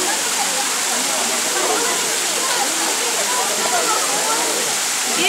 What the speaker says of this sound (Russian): поднимаемся к 33-му водопаду